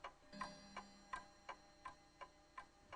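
A clock ticks steadily and evenly, about three ticks per second, close and clear against a quiet background.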